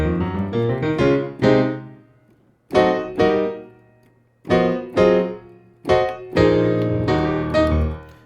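Keyboard chords played in a slow progression, each struck chord ringing out then fading, with short pauses between groups; no one speaks.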